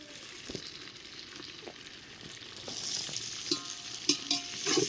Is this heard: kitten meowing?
no